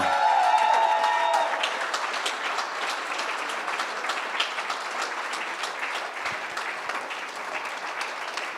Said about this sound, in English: A massive round of applause for Lex Passhaus.